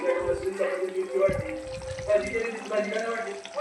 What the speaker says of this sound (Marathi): थोडंसं पाणी टाकून घेतलं खारं वांगं बनवण्यासाठी